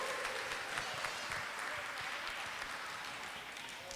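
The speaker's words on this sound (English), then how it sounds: "round of applause and congratulations" A crowd at a school academic bowl applauds, dense steady clapping from many hands filling the room for several seconds.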